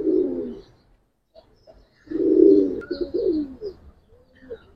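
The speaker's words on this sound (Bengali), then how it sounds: "এটা নর কবুতর ভাই" A male pigeon coos loudly and close, in two bursts of throaty rolling calls separated by a pause, followed by softer trailing coos and faint chirps.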